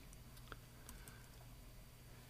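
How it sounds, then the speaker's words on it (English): Faint, sparse keystrokes on a computer keyboard tick lightly against a low steady background hum, a handful of soft taps spread across a quiet stretch. "you can actually start typing it"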